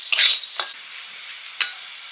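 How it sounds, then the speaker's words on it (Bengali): Moong dal frying and being stirred in a pan, a soft sizzle with a few short scraping strokes of the spoon, close and steady, with no talk. "মুগ ডাল ভেজে জল দিয়ে দেব সেদ্ধ করার জন্য"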